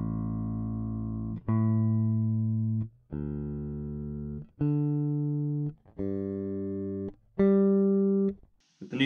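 Bass guitar with freshly fitted new strings, played as six long sustained notes one after another, each ringing and fading before the next, deep and close with no voices.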